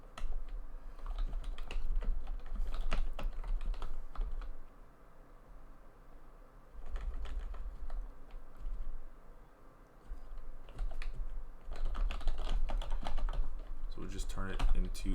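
Fast, continuous clacking of code being typed on a computer keyboard, close and loud, with brief pauses and bursts of heavier keystrokes throughout.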